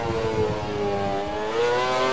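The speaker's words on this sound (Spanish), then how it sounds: "Estoy escuchando ya un coche detrás que..." Race car engine in the F1 2013 video game at Silverstone, a loud sustained high whining tone that rises in pitch, joined by another car coming up from behind.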